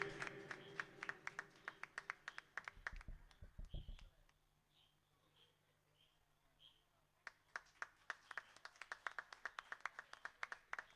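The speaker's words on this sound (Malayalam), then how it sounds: "എല്ലാവരും ഒരു കയ്യടിയോടെ സ്വീകരിക്കും." An audience at an annual public meeting of an S.H. unit applauds with faint, scattered claps that pause briefly and then pick up again at a distance.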